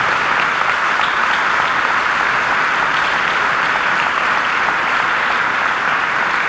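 Steady, dense applause from an audience at a funeral gathering, clapping for the family without pause, loud and close, with no voices standing out.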